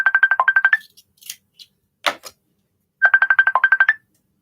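A phone ringtone plays two bursts of rapid electronic trills about two seconds apart, loud and close, with a few soft knocks and a brief rustle in the gap between them.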